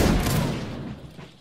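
A line of soldiers fires a musket volley in a video game, giving one loud, dense crack of overlapping shots that trails off in a short rumbling echo.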